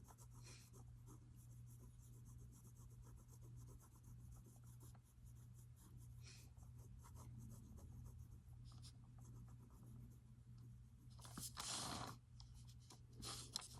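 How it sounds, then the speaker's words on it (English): A pen inks lines on paper in a Zentangle drawing with quiet, steady scratching and rubbing strokes, close and soft, plus one louder rustle near the end. "Let your paper draw the ink out of your pen."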